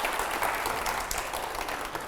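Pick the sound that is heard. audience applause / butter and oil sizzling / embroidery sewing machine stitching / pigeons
audience applause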